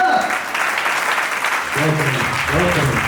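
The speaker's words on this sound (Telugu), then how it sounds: "అందరూ ఒకసారి చప్పట్లు కొట్టండి." Church congregation clapping together during Sunday worship, a dense steady patter of many hands that runs the whole moment, with voices and a sustained musical tone rising beneath it toward the end.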